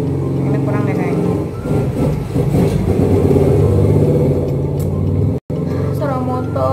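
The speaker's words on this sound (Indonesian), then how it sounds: "Suara motor." Motorcycle engine noise from a roadside, droning loudly and steadily throughout with a rising rev in the middle, while someone talks over it.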